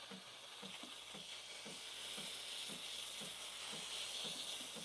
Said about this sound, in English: Once your steam is coming out,